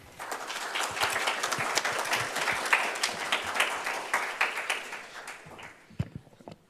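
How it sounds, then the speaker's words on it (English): An audience at a student senate meeting claps in sustained applause, a dense patter of many hands close by that swells and then tapers off to a few last claps. "Please join me in offering an applause for those members."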